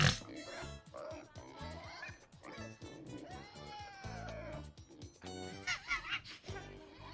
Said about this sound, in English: This is my pig, Norman.